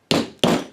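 Two sharp, loud hammer strikes set a rivet in leather for a vintage Western money belt and holster, each blow a crisp thud with a short decay, spaced about a third of a second apart.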